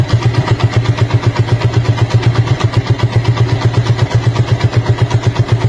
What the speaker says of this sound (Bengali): এই বাইকটার সাউন্ড শুনে আমার মনে হচ্ছে যেন ডিজেল দিয়ে চালায় না যে ধান ভাঙানোর মেশিন, ওই মেশিনের সাউন্ড